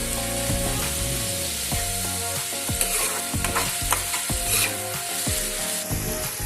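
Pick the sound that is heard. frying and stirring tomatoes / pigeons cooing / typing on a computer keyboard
frying and stirring tomatoes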